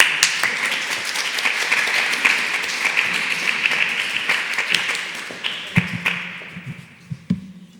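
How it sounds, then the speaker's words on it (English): An audience at a talk gathering gives a round of applause, loud and dense at first, then thinning into scattered individual claps that fade out near the end. "Big applause."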